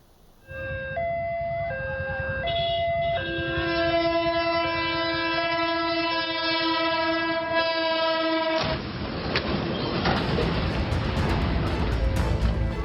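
A passenger train horn blasts long and loud in steady sustained tones, then cuts off into a burst of harsh crashing noise as the train hits a truck.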